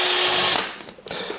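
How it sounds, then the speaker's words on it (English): A power drill bores through the plastic lid of a Gatorade bottle, a loud steady whine for about half a second that then cuts off, followed by a few faint clicks and bumps. "We want to drill a hole through the lid."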